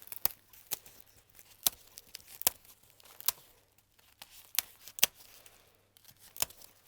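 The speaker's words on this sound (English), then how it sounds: "So now I'm gonna cut the other side." Scissors snip through the side of a Moses basket in a run of sharp, close cuts, each one a crisp click with uneven gaps between them and quiet in between.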